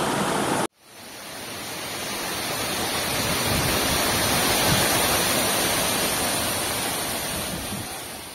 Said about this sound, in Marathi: खूप सुंदर असा धबधबा आहे हा